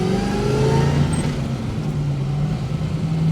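A 1969 Chevrolet Camaro SS 396 with a four-speed drives along, heard from the passenger seat as a steady, rumbling V8 drone under road noise, with no talking.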